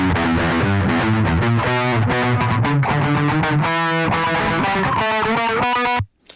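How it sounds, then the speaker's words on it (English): Electric guitar through a distortion effect in the Yonac ToneStack Pro iOS amp app plays a busy riff of chords and notes, loud and close, ending abruptly in silence. "you can go to distortion and add a distortion like so"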